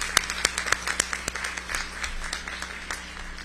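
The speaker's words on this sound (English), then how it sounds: "we got to give everybody a round of applause" Scattered, fairly faint clapping at the 27th Annual Orange County Community Conference, with separate distinct claps in an uneven rhythm rather than a full roar of applause.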